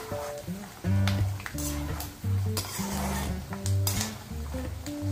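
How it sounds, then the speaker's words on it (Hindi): Peanuts deep frying in hot oil over a medium flame for sabudana chivda, a soft continuous sizzle broken by repeated scraping and clinking of a spoon stirring in the pan. "अभी सिंगदानों को हमें डीप फ्राई करना है और बीच बीच में हल्का हल्का चलाते रहेंगे"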